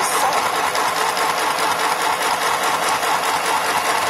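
A sewing machine stitches an elastic waistband together for a skirt, running in a steady, loud, continuous mechanical whir with rapid needle rhythm throughout, close to the microphone.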